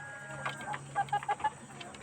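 A three-month-old Mardi chicken gives a few soft, short clucks in quick succession, faint and close, over a quiet background hum.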